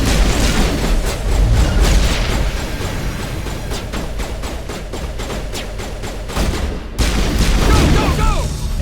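Heavy gunfire in a Mass Effect battle against mercenaries, dense overlapping shots and booms at high volume, with voices under the din.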